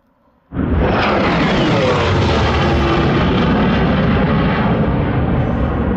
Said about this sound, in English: Like some kind of military plane, jet, whatever